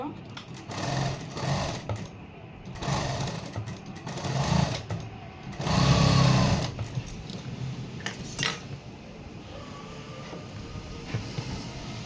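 A sewing machine stitches the front neckline of a garment in several bursts of running, with pauses between them, while someone speaks over parts of it.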